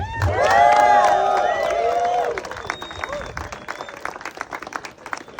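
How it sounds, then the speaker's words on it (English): Audience applause and cheering for Gold Star family members at a Tampa Bay Frogman Swim ceremony, loud at first with voices calling over it, then easing into steadier clapping that continues to the end. "Let's give them a round of applause"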